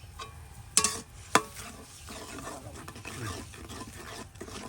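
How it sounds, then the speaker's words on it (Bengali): Prawns cooking with turmeric, salt and spices in a pan, stirred with a utensil: two sharp scrapes near the start, then steady soft stirring and faint sizzling without talk. "এবার আবার কষানি হইতে থাকো"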